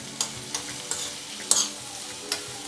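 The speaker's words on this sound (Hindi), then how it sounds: "थोड़ी सी लाल मिर्च पाउडर, थोड़ी सी हल्दी, थोड़ी सी हींग, तो इन सबको मिला देंगे" A spoon stirs red chilli powder, turmeric and asafoetida into fiddlehead fern sabzi frying over a medium flame, with a steady oily sizzle and several distinct scraping strokes at an uneven pace, close and alone.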